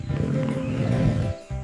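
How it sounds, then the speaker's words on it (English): A gorilla lets out a deep, rumbling roar that lasts over a second, loud and close, then breaks off abruptly before a brief low resumption. "It's a gorilla."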